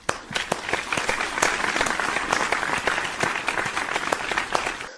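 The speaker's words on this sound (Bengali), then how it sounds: "তালিয়া।" Applause from a group, several seconds of crisp sharp claps with individual hand strikes standing out from a steady clapping bed.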